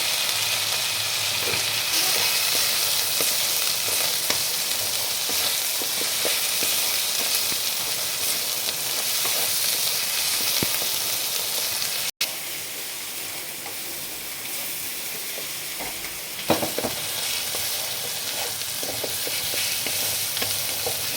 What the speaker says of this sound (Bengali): মশলাটা প্রায় আমার কষা হয়ে গেছে তেল ছেড়ে দিয়েছে